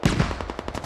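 Rapid burst of frag rounds firing in a military shooter game set in Kamdesh, a fast run of sharp, evenly spaced reports, loud and close with no talk over it.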